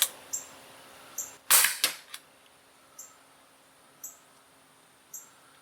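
A Gamo P430 dual-ammo CO2 pistol fires a pellet with one sharp, close crack and a quick second snap, followed by faint, evenly spaced electronic chirps in a quiet setting.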